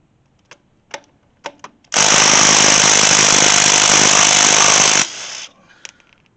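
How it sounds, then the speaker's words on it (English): Impact wrench spinning off 19 mm wheel lug nuts on a 2007 Chevy Cobalt, one loud continuous rattling burst of about three seconds, preceded by a few short ratchety taps and followed by quieter clinks. "you can use a impact wrench and socket if you want to, or a tire iron, whatever you got, to go ahead and remove the lugs"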